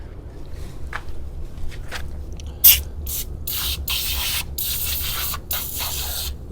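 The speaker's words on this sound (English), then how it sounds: "I think I'm supposed to squirt this on there and then leave it for a while, 15 minutes" Liquid is sprayed in repeated hissing bursts onto a part of a John Deere mower, close and fairly loud, each squirt a short rush of spray with brief gaps between them.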